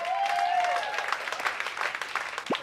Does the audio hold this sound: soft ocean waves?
no